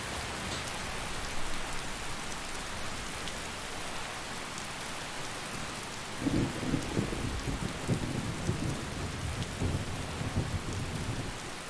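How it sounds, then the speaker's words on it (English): Steady rain falls in the video game Skyrim, a constant hiss, and about halfway through a low thunder rumble rolls in beneath it and keeps grumbling to the end, with no voices. "I think the rain's easing off."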